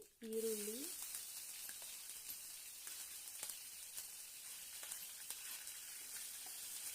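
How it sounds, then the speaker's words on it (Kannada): Curry leaves and seasoning sizzle steadily in hot oil in a pan for upittu, a close, constant crackling hiss with a brief hum of voice at the start. "ಈಗ ನಾನು ನೋಡಿ ಎಲ್ಲನೂ ಹಾಕ್ಕೊಂಡೆ ಚೆನ್ನಾಗಿ ಫ್ರೈ ಮಾಡ್ಕೋಬೇಕು"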